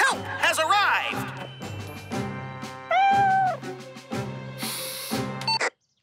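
A cartoon cat stuck high in a tall tree meows repeatedly in short, rising and falling cries, mixed with voices talking and bright musical sounds.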